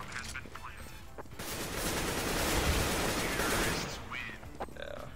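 Dense, sustained automatic gunfire from Counter-Strike: Global Offensive, a continuous loud burst of rapid shots that swells in the middle and tapers off, with brief scattered game sounds before and after.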